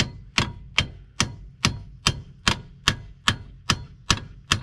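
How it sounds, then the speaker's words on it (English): A hammer beats strut bolts into place on a 2001 Buick LeSabre's front quick strut, eleven evenly spaced sharp metallic taps, close and clear, with no talk. "So I need to find my hammer. Go ahead and just beat these in"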